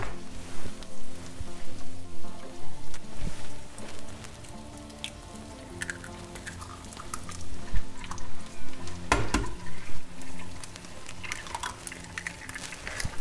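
Two eggs sizzle and crackle in hot oil in a pan, a steady close frying hiss with scattered pops and a few utensil clinks, no talking.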